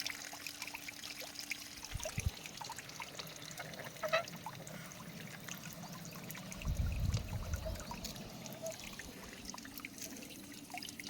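Organic manure solution trickles and gurgles steadily through a drip venturi in an oil palm plantation, with small drips and splashes, joined by a brief deeper rushing surge partway through.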